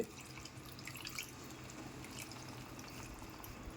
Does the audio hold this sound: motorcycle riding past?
no